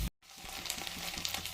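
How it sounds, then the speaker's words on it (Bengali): Chopped onion fries in hot oil with cumin for an egg curry, a continuous close sizzle with faint stirring clinks, following a short silent gap at the start. "এর সাথে পেঁয়াজ কুচি দিয়ে পেঁয়াজটা একটু ভেজে নিচ্ছি।"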